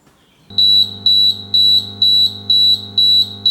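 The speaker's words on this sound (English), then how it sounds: "you want the alarm to be loud, because you could be out on deck on your boat whenever something goes wrong" A boat's Gardner engine alarm system blares a loud, insistent electronic beep, pulsing in seven even bursts about half a second apart, close and alone with a low steady hum underneath.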